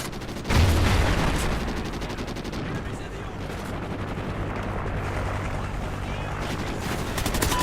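Dense rapid gunfire in Call of Duty: Ghosts, steady crackle of shots with booming hits and a helicopter-like drone underneath, sustained and fairly loud throughout, with a voice talking over it.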